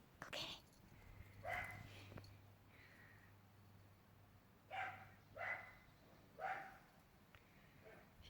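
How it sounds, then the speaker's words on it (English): A dog barks in bursts somewhere off in the distance at a puppy training session for Cavalier King Charles Spaniels, the faint barks coming in small groups with quiet gaps between them. "We're listening to that dog over there barking."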